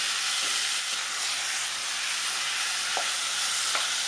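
Vegetables in an oil mixture sizzle and hiss continuously in a pot, with a steady, fairly loud bubbling and a few faint stirring clicks.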